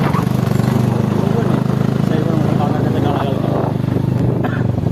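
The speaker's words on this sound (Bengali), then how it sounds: "চলো, আমরা বাইকে করে যাচ্ছি এখন" Motorcycle engine droning steadily while riding, with wind rumble and a voice talking over it throughout.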